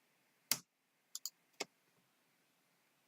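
Computer mouse clicks during Ableton Live setup: a sharp single click, then a quick double click and one more, close and crisp over a quiet room.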